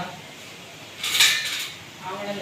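A spoon and ladle clatter among dishes at a street food cart selling kulchas, a brief bright metallic rattle over a low background murmur.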